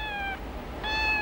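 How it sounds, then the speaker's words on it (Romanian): A cat meows twice with clear, drawn-out cries separated by a brief pause, close and fairly loud against a quiet indoor background. "Miaune grozav. Plânge, plânge. El miaune și plânge."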